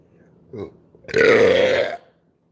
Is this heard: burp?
yes